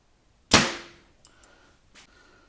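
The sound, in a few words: Elite Rezult bow shooting Victory VTAC 25 arrow through paper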